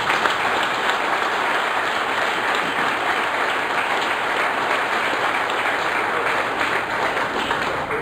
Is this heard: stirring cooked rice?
no